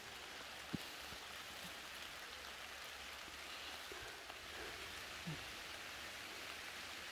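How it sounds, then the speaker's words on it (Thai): Steady rain falling in a deep forest, a constant soft hiss with a few scattered drips and knocks, heard without anyone speaking. "ฝนตก"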